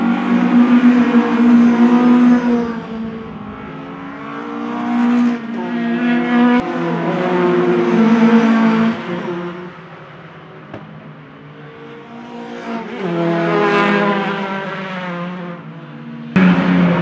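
Racing trucks run on a very wet, slippery Brands Hatch circuit, engines surging and fading as they pass at moderate distance, with swelling and receding roar over several seconds and no voices.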